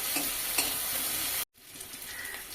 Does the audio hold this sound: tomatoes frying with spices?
yes